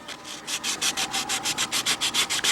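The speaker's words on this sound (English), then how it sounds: "So by hardening this up, move the sandpaper over," Sandpaper rubbed back and forth over a hardened glue area on a balsa model aircraft cowl, a steady run of about fifteen close, even scratching strokes with no talk.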